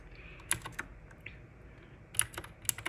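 Typing on an Anne Pro 2 mechanical keyboard, used for gaming keys, gives sparse clustered key clicks in two short bursts, close and fairly quiet, with no talk.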